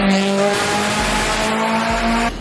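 A turbocharged Subaru BRZ making over 500 horsepower starting up, a loud, harsh engine roar with a steady droning pitch and a few sharp revs, close by and with no talking over it.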